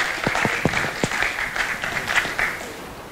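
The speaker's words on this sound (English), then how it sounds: "a round of applause for our speaker" A conference audience at FOSSASIA applauds a speaker on open source corporate strategy, a moderate crowd clapping at middle distance with a few sharp nearby claps at first, fading slightly toward the end.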